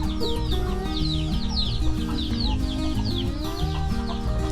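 Hens cluck repeatedly and close up in a busy coop, overlapping calls over a droning background hum.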